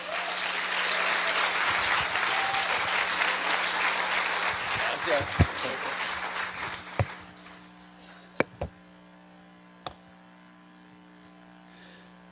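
A church congregation applauds at a Spanish-language service, dense clapping that fades away within seven seconds, followed by a few isolated claps and taps over a faint electrical hum.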